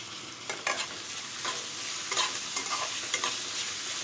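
Onions fry in a pan with ginger garlic paste, giving a steady close sizzle. Sharp scraping strokes of a spoon stirring the mixture break in several times, and no one speaks.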